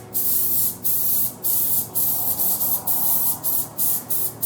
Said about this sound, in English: So you want to give it a good spray so our muffins don't stick.